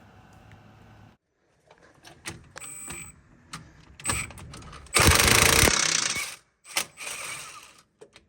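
An impact wrench on a socket during a botched spindle repair gives one loud, rattling burst lasting under a second, surrounded by scattered metallic clanks and tool handling.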